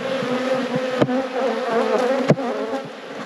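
Honey bees buzz steadily and close around an open, weak hive with sparse frames, a wavering drone interrupted by a couple of sharp knocks or clicks.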